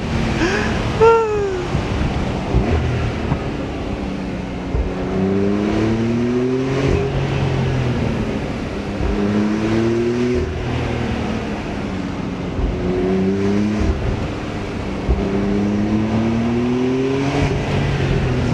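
A 420 hp Porsche 991 Carrera S accelerates flat out out of a corner, its engine climbing through the revs in repeated upward sweeps with gear changes between them, loud and close over heavy wind rush.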